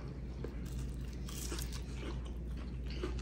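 Close crunchy biting and chewing of panko-breaded trout eaten with a potato, pea, carrot and onion curry, wet mouth sounds repeating steadily over a low hum with no talking.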